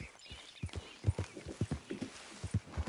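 Horse hooves clip-clopping at a steady walking pace in the video game Red Dead Redemption 2, a regular rhythm of soft, fairly quiet hoof strikes with light background ambience.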